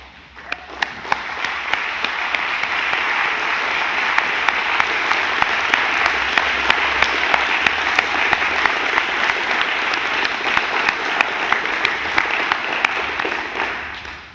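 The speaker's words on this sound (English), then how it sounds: "give a round of applause to the people who've shaped us into who" A large crowd of graduates applauds at a Grade 12 graduation ceremony, sustained dense clapping with a few sharp individual claps standing out, steady throughout before easing at the end.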